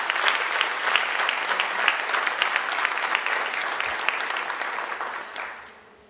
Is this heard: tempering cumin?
no